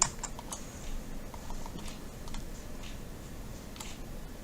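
Light, steady tapping and clicking on a computer keyboard and mouse while working on a 3D model of the doors of an Eddy wagon, soft and close, with scattered sharper clicks and no talking.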